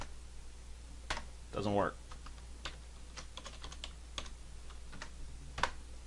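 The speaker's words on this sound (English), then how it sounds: "So if I type my typical password for this machine," Password typed on a computer keyboard for a Windows virtual machine: a run of sparse, crisp key clicks, fairly close and moderately quiet, with a brief spoken remark partway through.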